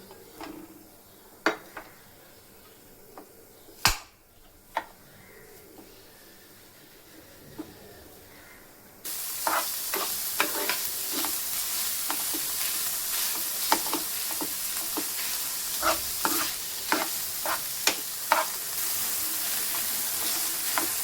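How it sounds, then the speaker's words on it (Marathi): Khoya (mawa) roasting in a pan: quiet at first with a few sharp scrapes and taps, then a steady loud sizzle sets in halfway through, dotted with repeated scraping stirs. "मावा भाजून घेऊया।"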